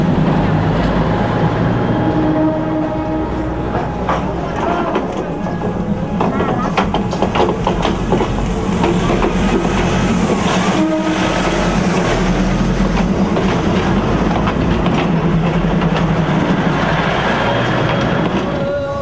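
A train rumbles steadily into a station in a loud, continuous wash of rail and wheel noise with clanking bursts, while people talk faintly underneath.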